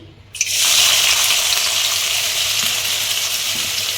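Chopped onion hits hot mustard oil and erupts into a loud, steady sizzle and crackle that continues without a break, close up, with no talking.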